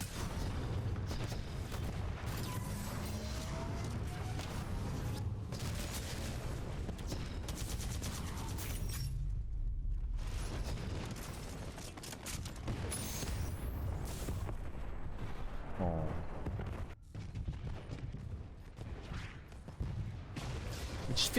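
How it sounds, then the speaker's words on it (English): Gunfire and explosions from an anti-Titan weapon in Titanfall 2 fill the game mix with steady booms, blasts and mechanical noise throughout, loud and dense. "Never thought I'd see the day I actually use this anti-Titan weapon."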